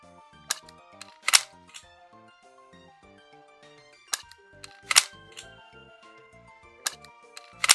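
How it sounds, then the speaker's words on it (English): Gun reloading effects in the zombie video game Zomclave: a series of sharp mechanical clicks and clacks spaced irregularly, several separate reload actions heard clearly over quiet, faint in-game ambience. "I can hear the reloads happening"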